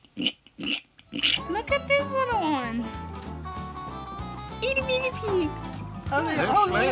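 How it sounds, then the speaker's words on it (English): Little pigs at Smithfield, Virginia, let out a series of squealing oinks close by, with people talking over and between the animal sounds. "Everything in Smithfield is about pigs. Look at these little ones. Itty bitty pigs."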